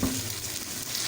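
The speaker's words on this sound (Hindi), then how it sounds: "हम इसको ना अब तेज़ आंच पे इसको अच्छी तरह इसको फ्राई करेंगे।" Balochi tikka karahi fries over high heat, giving a loud, continuous broadband sizzle that stays steady throughout the brief stretch.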